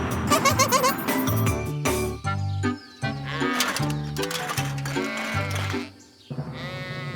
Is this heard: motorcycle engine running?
no